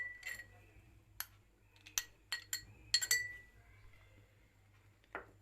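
Ingredients including white radish or turnip are placed into a glass jar, giving a few scattered light clinks and taps of glass, quiet and close, with short pauses between them.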